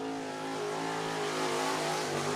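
An IMCA modified race car roars on a qualifying lap at Cottage Grove Speedway. The engine holds a loud, sustained drone with a slight pitch rise and sounds close and continuous.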